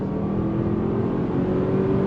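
A 2023 Bentley Bentayga EWB V8 accelerates from a dead stop, a steady, loud engine drone with a slowly rising tone, heard from inside the cabin with no talk.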